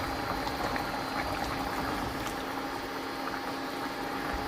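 Chicken rasam simmers in a pot over low heat, a faint steady bubbling and hiss with a constant tonal hum beneath.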